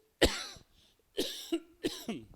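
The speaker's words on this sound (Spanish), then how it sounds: "La tos no se me va" Three harsh, close coughs in a row, each a sharp burst with a raspy tail, separated by brief pauses.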